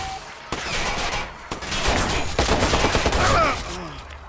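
Rapid bursts of automatic gunfire and shots from the video game Watch Dogs, loud and dense throughout, with a brief lull before the firing resumes in close, overlapping volleys.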